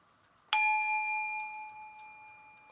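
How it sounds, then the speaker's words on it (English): A single bell struck once to open a breathing exercise, a clear ringing tone that starts sharply and slowly fades over a couple of seconds in a quiet room. "So at the sound of the bell, we're going to take that deep breath."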